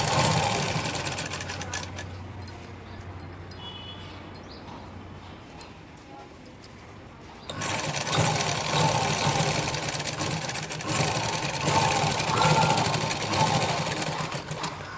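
A sewing machine stitches the seam of a Punjabi-style pant with a half-inch seam allowance, a close, steady mechanical whirring that softens midway then runs louder and faster, with someone speaking over it.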